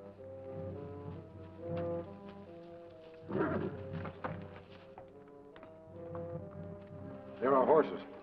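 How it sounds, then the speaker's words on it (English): Horses in a western TV episode plod with hooves clip-clopping under steady orchestral music, and a couple of whinnies rise above the score. "There are horses."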